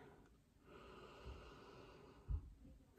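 A deep inhalation of essential oil rubbed into the palms: a faint, drawn-out sniffing breath, followed by a brief snort-like sniff near the end, quiet and close.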